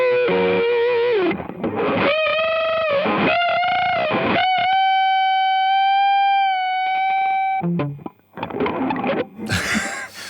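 Heavily distorted electric guitar through a Boss BE-5 multi-effects pedal's distortion circuit plays sustained, gritty notes and bends, with a few pauses between phrases and a harsh burst at the end.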